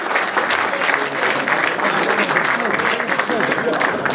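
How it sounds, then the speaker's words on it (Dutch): A carnival audience in Valkenburg applauds during the 2016 key handover, giving sustained loud clapping from a large crowd, with voices mixed in under it. "Geef ze een geweldig applaus."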